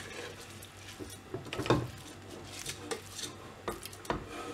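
Basmati rice is stirred gently into masala in a pot. A few soft scrapes and clinks from a utensil against the pot stand out over a quiet background, and no one talks.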